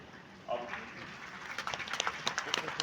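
An audience at a district legal services camp ceremony gives a round of applause that swells from faint scattered claps into denser clapping, with the crowd murmuring beneath it.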